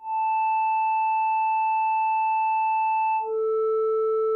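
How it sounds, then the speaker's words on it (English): A sustained Groove Synthesis 3rd Wave 8M synthesizer tone holds steady, then shifts abruptly to a different pitch, with a faint buzzy digital artifact under the clean drone. "you can hear we've got some weird little digital artifact in that"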